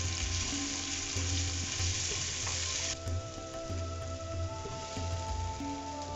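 Ginger garlic paste and curry leaves fry in hot oil for a zucchini curry, a close, steady crackling sizzle with periodic scraping stirs throughout.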